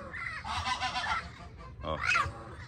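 Turkeys calling outdoors in a rural natural setting, two loud raspy bursts of gobbling honks close by, separated by a brief pause.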